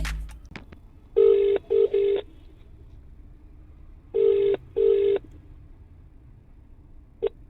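An outgoing phone call rings through the handset: a few clicks, then pairs of double-burst ringback tones repeat with quiet gaps between them. A short beep comes at the end, with no talking.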